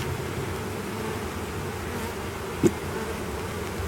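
A dense, steady drone of many honeybees buzzing close by in a hive, continuous and even, with one brief soft knock partway through.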